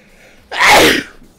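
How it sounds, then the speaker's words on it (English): A single loud, close sneeze bursts out abruptly after a quiet moment, lasting about half a second before dying away. "That was some terrifying sneezes"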